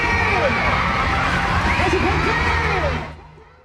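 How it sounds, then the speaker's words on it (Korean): Children and spectators cheer loudly at an elementary school sports day relay race in Seongnam, Gyeonggi, a dense, continuous roar of shouts and excited voices that holds steady, then fades away over the final half-second. "운동회의 백미, 이어달리기가 시작되자 응원이 달아오릅니다"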